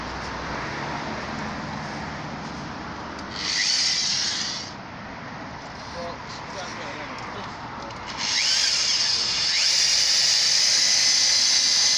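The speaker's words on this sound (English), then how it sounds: "I have to drill it without a hammer because I don't want to chip that bit of concrete" A power drill, without hammer action, whines as it bores into concrete for an EV charger installation, running in two strong bursts separated by a quieter stretch, loud and close.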